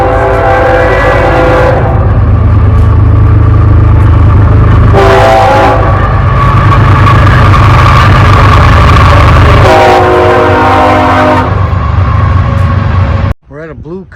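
A loud train rumbles past close by a campground in Seffner, Florida, with heavy continuous clatter and repeated blasts of its horn, then it cuts off abruptly into quieter sound.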